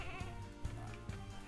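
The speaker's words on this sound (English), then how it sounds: "It's just sheep" Sheep bleat in the co-op game Lumberhill with wavering, nasal calls repeating close together over soft game ambience. The sound is quiet overall.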